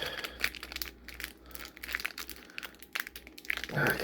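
The foil wrapper of an Animal Crossing e-Reader card pack being torn open, with close, irregular crinkling and crumpling bursts that stop and start.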